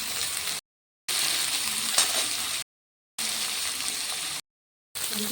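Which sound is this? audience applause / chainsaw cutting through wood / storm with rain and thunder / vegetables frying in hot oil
vegetables frying in hot oil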